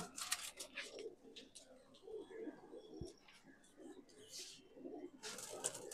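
Madrasi pigeons coo faintly in soft, low murmurs, broken by brief scattered rustling bursts at a distance.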